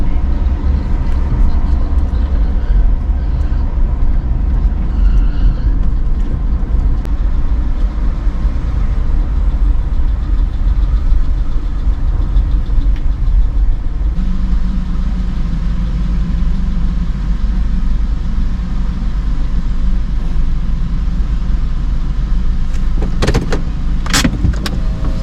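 Old car's engine idling while boarding the Interislander ferry in Wellington, a steady low rumble close by throughout, with brief clicks and a sharp rattle near the end.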